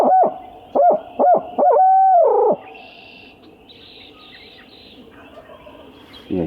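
A hunter imitates an owl with a hooting call to locate turkey gobblers on a ridge at dawn: a few short hoots, then a longer drawn-out hoot, followed by quiet outdoor ambience with faint birds and a brief closing hoot.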